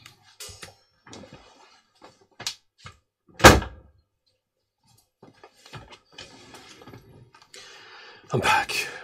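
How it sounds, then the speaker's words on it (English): An indoor door is shut with a single solid thud, framed by scattered shuffling, clicks and handling noises before and after. "I'm going to go and shut that door."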